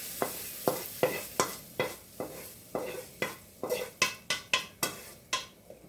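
Food is sautéed in a pan, a spatula scraping and stirring in a steady rhythm of about a dozen close, distinct strokes over a soft background sizzle.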